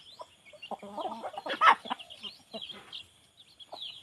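Young game fowl chicks, fighting-cock stock, cluck and peep in short scattered bursts, fairly faint and close, with quiet gaps between calls.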